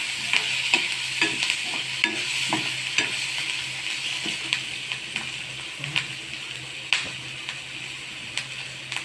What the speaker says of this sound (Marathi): छानपैकी कांदा आपण लाल करून घ्यायचा आहे